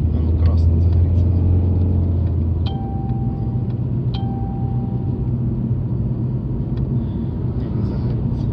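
A BMW E46 engine idles with its automatic transmission in gear, giving a steady, loud, close rumble with a low hum that drops off partway through, while a few faint tones sound over it.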